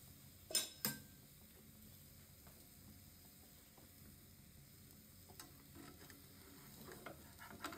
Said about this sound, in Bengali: পরোটাটা ঘি দিয়ে ভাজতে হবে।